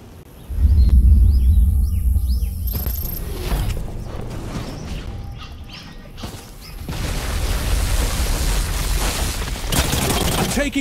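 Gunfire in The Cycle, a PC shooter game, during a ranked squad match: dense, sustained bursts of shots with low booms and mechanical clatter running through most of the stretch, loud and close, alongside game voice lines and some talk.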